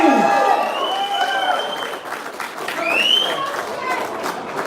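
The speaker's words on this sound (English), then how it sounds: "And let's give Shahina a round of applause" Spectators at a chilli eating contest clap and cheer for the competitors, a lively crowd noise mixed with shouts and whistles while people talk and call out over it.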